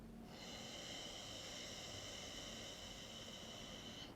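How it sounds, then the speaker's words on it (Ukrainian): A slow, deep inhale through the left nostril during pranayama, heard as a long, quiet, airy hiss with a whistling nasal tone that swells in and holds steady for about four seconds. "ми будемо робити спокійний глибокий вдих через ліву"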